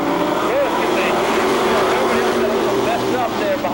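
Race cars pulling away at the green flag at Seekonk Speedway, eight cars moving up together, a loud continuous engine roar with rising and falling revs throughout, while an announcer talks over it.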